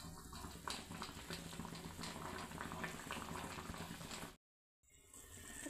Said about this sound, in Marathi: खळखळून अशी उकळी आलेली आहे मस्त अशी रश्श्याला।